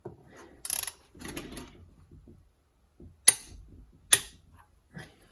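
A torque wrench tightening bolts on a BMW E60 M57 3.0 litre diesel engine during a timing chain job, with soft ratcheting clicks, two sharp metallic snaps and quieter handling noises close by.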